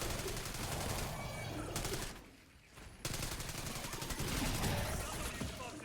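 Video game gunfire rattles in rapid automatic bursts, fairly faint, with a brief lull midway before the shooting resumes steadily.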